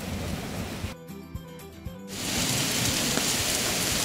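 Heavy rain and hail pelt down during a thunderstorm near a cave, a dense close hiss broken by a short quieter stretch of faint ringing tones before the downpour surges back louder.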